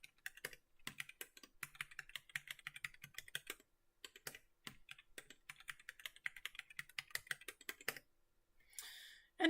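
A password is typed on a computer keyboard at a terminal, a steady run of quiet, close keystroke clicks that pauses briefly and then ends in a short, louder burst.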